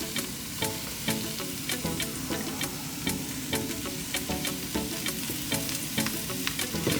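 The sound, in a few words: mushrooms frying in pan for risotto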